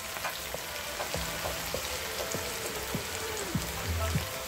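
Chicken pakoda pieces fry in hot oil, giving a steady, fine crackling sizzle with scattered pops and bubbling, heard up close at moderate level, with a voice faintly under it.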